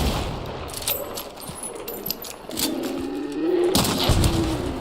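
Explosive-shot gunfire from a video game, a run of sharp bursts and booms with a louder blast near the end, over a steady game backdrop.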